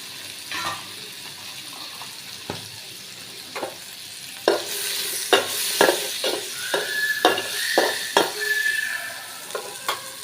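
Fried cauliflower florets and dried chillies stir-fry in a pan: a steady sizzle under repeated sharp clacks and scrapes of a spatula, growing busier and louder halfway through, close by.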